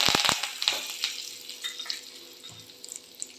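Fenugreek seeds and curry leaves hit hot oil in a loud crackling burst that settles into a softer, fading sizzle with scattered pops.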